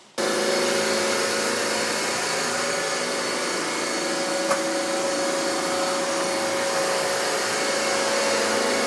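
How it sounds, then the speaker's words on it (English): A Roomba robot vacuum cleaner runs continuously with a loud, steady whirring drone and a fixed high tone, close by, switching on at the start and holding level throughout, with no talking. "Next is the Roomba."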